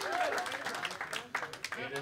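Audience applause for a poker player at a live final table aboard a cruise ship, a steady mid-level patter of clapping that fills the whole stretch with a few sharper claps near the end, while an announcer speaks over it.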